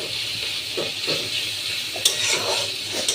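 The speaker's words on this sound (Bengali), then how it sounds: "এখন আমি পেঁয়াজটাকে একটু ভালো করে নরম করে ভুনবো, একদম হালকা ব্রাউন হওয়ার আগখানি পর্যন্ত" Onions frying in a pan until soft and just short of light brown, a continuous hissing sizzle with soft stirring scrapes and a couple of sharper utensil knocks against the pan.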